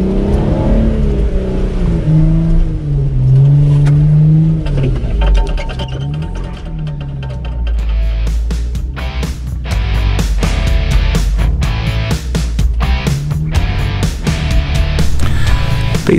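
A vehicle's engine drones and revs steadily while driving on an off-road trail, loud and close, with rattling knocks and jolts over rough ground.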